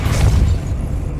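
A Confringo fire spell bursts in Hogwarts Legacy, a single heavy booming explosion with a deep low thump up front that rolls off and fades over about a second.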